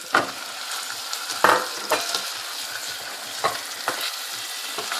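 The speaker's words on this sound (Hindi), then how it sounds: "अब मैं इसमें चिकन डाल के करती हूँ।" Chicken wings frying in a karahi with ginger garlic paste for white chicken karahi: a soft sizzle beneath sharp, repeated spatula scrapes against the metal, close and without speech.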